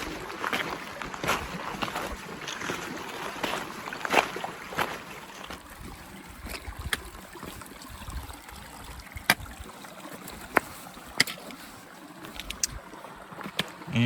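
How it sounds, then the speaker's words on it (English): Footsteps wading through a shallow creek over steady flowing water, with intermittent splashes and sloshing close by, quiet overall and no talking. "just kind of making our way down the creek here a little bit, just kind of walking right through it"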